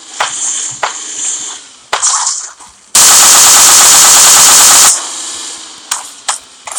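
Automatic gunfire in the mobile shooter PUBG Mobile: a loud, continuous burst of rapid shots lasting about two seconds, framed by shorter single shots and scattered game effects before and after, with no voices.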